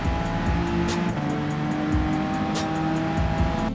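Race car in Gran Turismo 7 driven in an online time trial at Autopolis, a loud sustained engine drone with shifting pitch and tire noise, constant and close with no talking.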